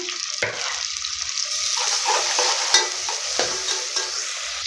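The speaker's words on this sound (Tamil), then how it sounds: "பச்சை மிளகா, இப்போது இது கூடயே வந்து மல்லி, புதினா நல்லா போட்டு வந்து வதக்கிக்கலாம்." Green chili, coriander and mint sautéing in a hot pan: steady close sizzle with repeated scraping stirs of a spoon across the pan, alone without talk.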